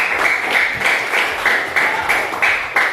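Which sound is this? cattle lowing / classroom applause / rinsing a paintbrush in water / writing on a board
classroom applause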